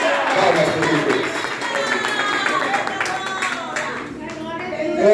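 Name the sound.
congregation clapping hands in church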